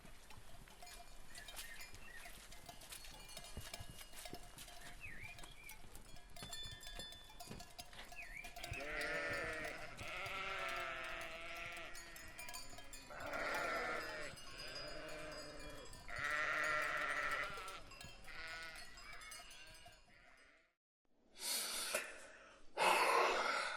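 Sheep bleat in a small flock at night in a village pen, several wavering calls rising between about 8 and 19 seconds over a soft background, then fading before a sudden louder burst at the end.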